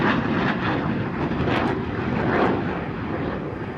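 Aircraft engines roar steadily and loud as a team flies close formation at an air show, a broad continuous rumble with a slight swelling pass around the middle.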